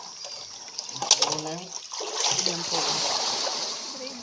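Water splashes and trickles as sand is scooped out of a cemented spring well, the sloshing fairly close and continuous, with someone speaking briefly over it.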